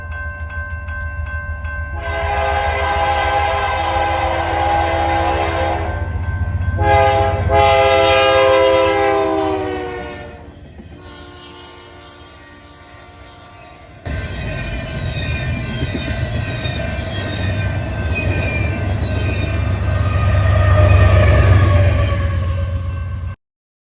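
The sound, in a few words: westbound intermodal freight train with H1-9 lead locomotive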